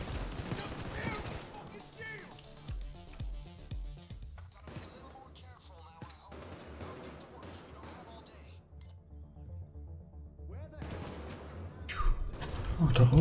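Gunfire in the Payday 2 video game: bursts of shots and clattering action sound up front, with bursty noise breaking in and out across the stretch and a louder crash near the end.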